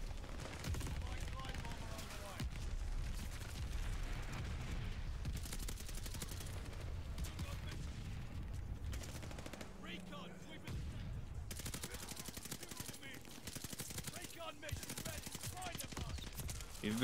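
Dense, continuous automatic gunfire in the video game Call of Duty Vanguard on the Shipment map, bursts of shots and explosions running almost without pause, with a player's voice talking over parts of it.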